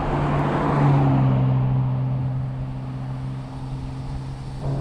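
A 1993 Nissan GT-R R32 being driven, its engine giving a steady, moderately faint drone that swells slightly early on and then settles.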